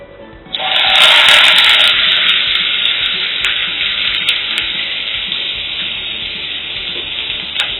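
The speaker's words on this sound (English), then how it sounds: "So I'm just going to leave the oil to heat up so that I can put in my onions." Onions hitting heated oil for a soy-based lunch, a sudden loud sizzle bursting in after a quiet start and then settling into a steady, slowly fading frying hiss with a few light clicks.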